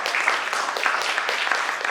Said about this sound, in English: So can we have a big round of applause for this wonderful teacher?